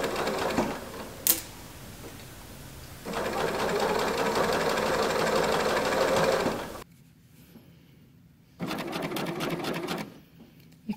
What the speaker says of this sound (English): So nice and quiet when you're cover stitching.